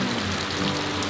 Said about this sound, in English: Right now it's just rain country.